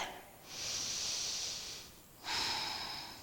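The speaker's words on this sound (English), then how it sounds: "Inhaling and exhaling here. One more big breath." Deep breathing during a Pilates session: two long, airy breaths, each a smooth hissing inhale or exhale lasting over a second, close to the microphone and alone with no talk.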